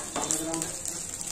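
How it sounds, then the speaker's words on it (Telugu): Coconut frying in hot oil, a faint steady sizzle with light stirring scrapes, close and low in level with no voices. "కొంచెం కొబ్బరి కూడా వేయించుతానండి."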